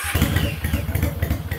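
A Honda Steed motorcycle, restomodded in a street Fat Bob style, idles loudly up close with a lumpy, uneven low-pitched throb and pulsing exhaust beats.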